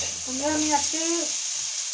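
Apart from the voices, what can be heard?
fish added to a frying pan, sizzling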